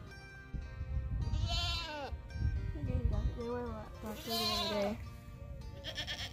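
A goat bleats several times in drawn-out, wavering calls, close and fairly loud, with a voice talking underneath in places.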